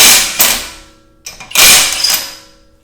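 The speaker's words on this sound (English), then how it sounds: "see whether or not the Prostormer can break one of them loose" A Prostormer cordless ratchet works to loosen bolts, its motor whirring in two loud, close bursts separated by a short pause, each burst rising then tailing off.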